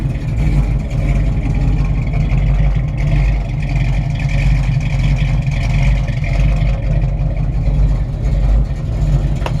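A 1966 Chevrolet C10 with a rebuilt engine, Hedman headers, Edelbrock intake and Holley double pumper carb, idling with a loud, steady, deep exhaust rumble up close and no talk.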